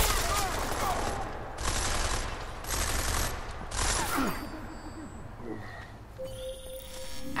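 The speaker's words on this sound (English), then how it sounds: "I'm getting reports of gunfire in Apex Center." Gunfire rattles in a firefight in the video game Deus Ex Mankind Divided as rapid bursts repeat over roughly four seconds, then the action fades into quieter ambience with faint tonal game sounds.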